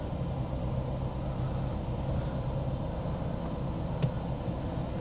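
A 1971 Rover P5B with a 3.5 litre V8 idles steadily in a low, even hum. It sits fairly quiet and constant, with a brief click near the end.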